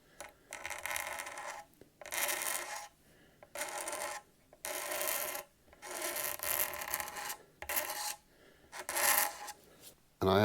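A blade scrapes clear-coat finish off the binding of a thinline bass guitar body in about eight rhythmic strokes, each a rasping scrape separated by short pauses, close up with no talk.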